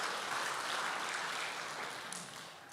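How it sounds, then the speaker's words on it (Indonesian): Church congregation at a four-storey GBI Mission Center church applauding together, a dense steady wash of clapping that holds throughout and tapers slightly at the end. "Tepuk tangan buat kemuliaan Tuhan"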